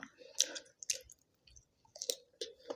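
Crispy fried pork-skin snack crunched in close, soft irregular bites, a few sharp crackles separated by quiet pauses, with no talk.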